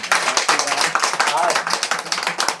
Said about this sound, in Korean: 자, 우리 박수 한번 해주세요.